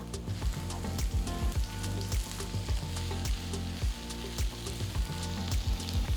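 Red chilies and chopped tomatoes sizzle and crackle steadily in a hot pan for a stuffed paniyaram filling. The frying is loud and close, with repeated sharp pops and no voices.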